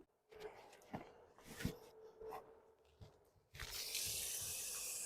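Fresh drinking water runs through a water filter into a container, first with faint splashes and handling clicks, then a steady, soft rushing hiss.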